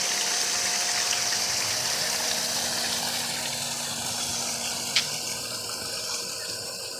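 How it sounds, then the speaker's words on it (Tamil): On coconut farmland near Dindigul, an electric motor draws water from a tank to feed saplings. It gives a continuous mechanical hum under the rush of flowing water, steady and fairly loud, with one brief click partway through. "அந்த தொட்டிலேருந்து உறிஞ்சி மற்ற கன்றுகளுக்கு போகிறதுக்கு தனியாக மோட்ரு போட்டு அது உறிஞ்சி"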